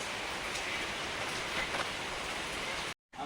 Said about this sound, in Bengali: বৃষ্টি পড়েই চলেছে কন্টিনিউয়াসলি